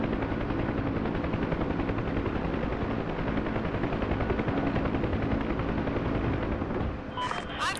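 Black Hawk helicopter in a video game, heard as a loud, continuous rotor thump and engine roar running throughout with little change, briefly dipping near the end as a short electronic tone sounds.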